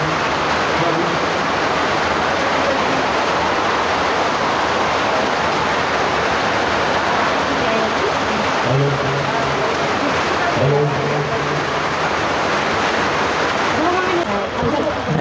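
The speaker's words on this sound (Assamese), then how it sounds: "এয়া বৰষুণ পৰি আছে" Steady rain falls close by, a dense unbroken hiss that runs the whole stretch, with a person's voice murmuring faintly underneath.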